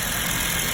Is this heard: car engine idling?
yes